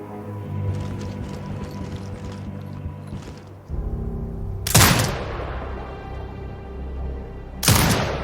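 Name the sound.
sentry turret firing in Sniper Ghost Warrior Contracts 2 video game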